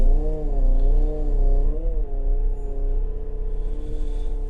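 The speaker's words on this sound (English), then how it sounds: "There's actually a push button start on it." A Weidemann T7042 loader's engine, fired up with a push button start, settles into a loud, close diesel idle with a low steady rumble and slight rises and dips in revs, no one speaking.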